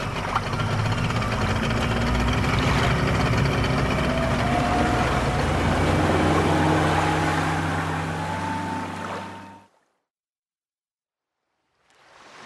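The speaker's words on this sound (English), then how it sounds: "then quickly started the boat engine" A boat engine runs with a steady low rumble and rattling drone for several seconds, then cuts off abruptly into silence.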